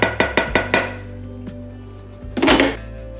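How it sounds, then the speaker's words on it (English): A metal cooking pot set down into a combined pressure and slow cooker: a few quick clinks and knocks at the start, a faint tap, then a heavier clattering thud as it settles, close by. "we're gonna go ahead and plop this pot down into our slow cooker"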